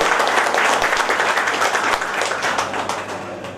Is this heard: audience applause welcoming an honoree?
yes